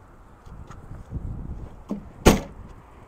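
In the trunk of a 2022 Toyota Camry Hybrid XLE, the cargo floor cover over the spare tire is lifted. Soft rustling handling leads to one sharp, close thump as the panel comes up.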